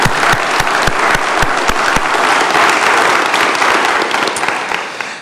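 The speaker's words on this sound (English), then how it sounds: "So let's just give our family and friends a round of applause for being here and supporting everybody." A graduation audience applauds family and friends with dense, loud clapping that carries on steadily and tapers slightly at the end, with a few sharp individual claps standing out near the start.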